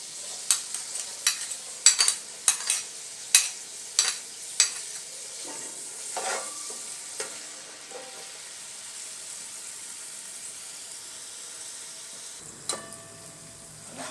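Onions frying in a pan for Lahori dhaba-style egg chana, with a steady sizzle and a run of sharp spatula scrapes and stirs in the first half before it settles to quieter frying.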